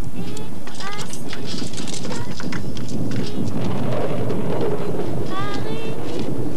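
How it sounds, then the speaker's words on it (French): Steady, loud rain pours in a thunderstorm, a dense hiss with low rumbling, while a voice sings over it. "Rentre vite, Lauriane, l'orage arrive."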